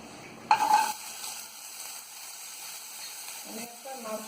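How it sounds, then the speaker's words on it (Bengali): Chopped coconut pieces dropped into hot oil in a pan, a burst of loud sizzling that settles into a softer steady fry, with a faint brief voice near the end. "এবার আমি এর মধ্যে নারকেল কুচিটা ভেজে নেব।"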